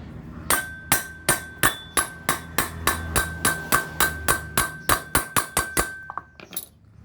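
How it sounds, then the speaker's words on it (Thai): Metal hammer blows drive a new part into place during a repair of a machine that starts but whose blades won't spin, about fifteen sharp ringing strikes in a steady rhythm, close and loud, with faint scraping at the end. "ตอกเข้าไปเลยนะครับ"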